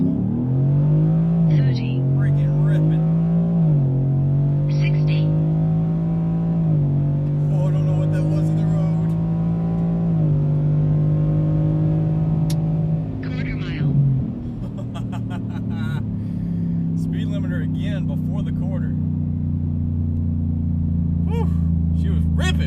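A modified 5.3-liter V8 truck engine runs in four-wheel drive, a loud, close, steady drone that swells and eases with throttle changes, deepening toward the end.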